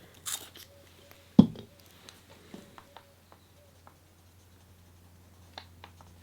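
A sharp pencil scratches lightly across paper for a botanical illustration, faint close strokes and taps spaced out through a quiet room, with one louder knock early on.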